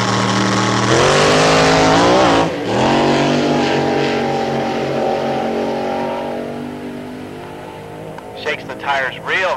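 Top alcohol dragster launches hard and shakes its tires at a drag strip in 1983, a loud engine roar with wavering harmonics that fades over several seconds, then brief tire or engine bursts near the end.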